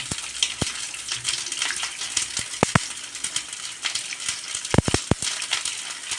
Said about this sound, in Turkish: çevire çevire kızartıyoruz.